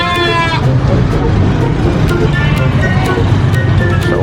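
Sheep and goats bleat in the Manor Lords video game, with a wavering bleat near the start over a dense, loud ambient bed of farm and village sounds.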